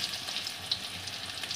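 Eggs coated in thick gram flour batter fry in hot oil for egg curry, giving a close, steady crackling sizzle with small pops and no voices.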